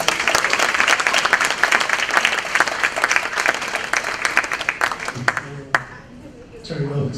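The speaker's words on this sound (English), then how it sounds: "just a round of applause for all the student presentations" An audience at a 2018 school showcase applauds student presentations, with dense sustained clapping that tapers off near the end as a few voices start to talk.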